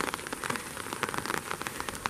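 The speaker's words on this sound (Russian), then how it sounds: "Дождик." Rain patters on a surface outdoors in a steady, dense spread of small drops, moderately loud and close, with no voices; a thunderstorm is rumbling somewhere in the distance.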